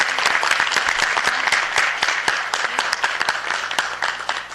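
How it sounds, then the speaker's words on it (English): Audience at a city council meeting claps in sustained applause, dense and steady throughout at close range, with a little voice mixed in. "Let's give them a round of applause for coming here and hanging out and doing that."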